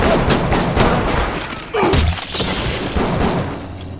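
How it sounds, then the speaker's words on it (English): Gunfire in the video game BioShock Remastered: a dense run of sharp, booming shots and thuds over a loud, busy game soundscape, with a heavy impact near the middle. "Alright, I guess we're gonna have a gunfire right here."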